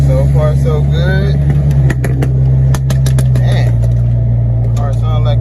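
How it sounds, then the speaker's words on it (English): A loud Audi exhaust roars steadily while the car is driven on a test drive, a constant heavy drone with engine rumble throughout, interrupted by brief sharp pops and crackles. "car sounds like it got torpedoes coming from it. Crazy exhaust."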